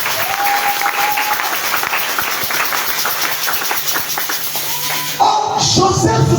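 A church congregation claps and cheers loudly in sustained applause, a dense crowd wash with a faint sung or held voice tone above it, before a voice cuts in near the end.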